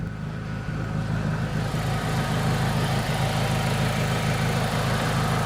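A BMW Z3 with the 1.9 engine and a mechanical fan idles steadily nearby after being readied for the road following winter storage, giving an even, continuous low running hum with no one speaking.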